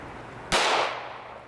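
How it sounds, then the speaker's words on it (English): .380 ACP round fired into a bulletproof mask, a single sharp, loud crack that decays quickly into a short echoing tail after a moment of quiet, with no talk. "380 ACP, this armor should have no problem with this little round"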